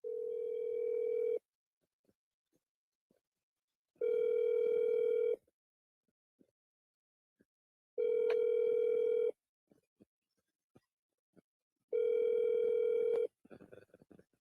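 A phone call rings out on the line: four evenly spaced ringback tones, each about a second and a half long, separated by quiet gaps with faint clicks, and a brief burst of other sound at the end.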